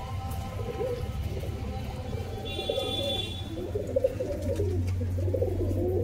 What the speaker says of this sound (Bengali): এই হচ্ছে কবুতরটা, সবুজ ফিলন কবুতর, প্রথমে যাকে উড়াছিলাম ওই কবুতরটি।